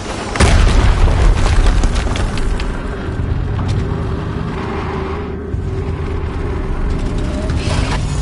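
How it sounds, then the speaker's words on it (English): A loud explosion in the Horizon Zero Dawn video game bursts out sharply at the start and then fades into a long, heavy rumble with scattered crackles over a sustained low drone. "Another explosion."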